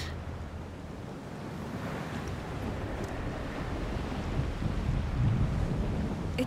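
Mediterranean Sea waves in the video game A Plague Tale Requiem, heard from a boat: a steady broadband wash of surf and water, moderately loud and continuous throughout, with no voices.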